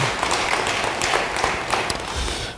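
A church congregation claps during a sermon, a dense steady patter of many hands with a few sharper claps standing out, filling the space for a couple of seconds.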